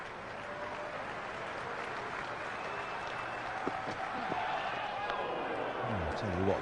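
A cricket crowd at Lord's during an England vs Australia Ashes Test applauds in a steady, distant wash of clapping, with faint voices and a low rumble beneath.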